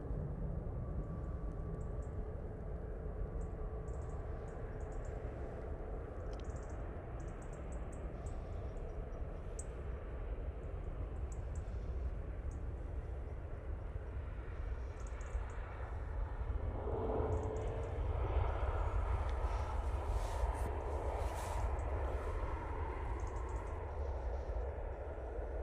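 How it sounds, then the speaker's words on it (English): A Ryanair Boeing 737 MAX 8 from Dublin on short final at Manchester Airport, heard as a faint, distant, steady engine rumble and hiss that swells slightly toward the end, with no talking. "Well, this is coming from Dublin. Using the 737 MAX 8 for this flight."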